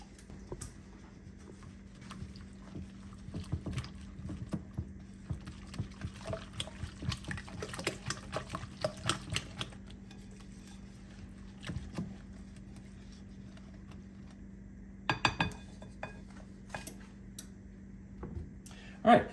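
Vanilla and allspice get stirred into an apple butter pie filling, giving soft wet scraping and clicking of a utensil against a bowl in uneven bursts, faint and close over a low steady hum.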